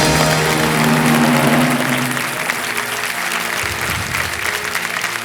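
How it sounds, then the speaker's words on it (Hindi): Studio audience applause on a TV quiz show set, a dense, steady burst of many hands clapping that starts loud and eases slightly, heard alone with a faint tonal music bed under the first half. "हम भी ताली बजा देते हैं।"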